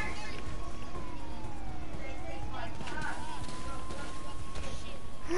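A police car siren in the GTA 5 video game wails in rising and falling sweeps, loud and continuous over busy game noise.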